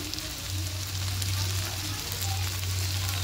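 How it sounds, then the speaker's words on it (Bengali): Spices, salt, ground ginger and vegetables sizzle steadily in a pan while being sautéed for a vegetarian mung and chana dal, a continuous close frying hiss with no talking. "এবার খুব ভালো করে সমস্ত কিছুকে একটু কষিয়ে নেব।"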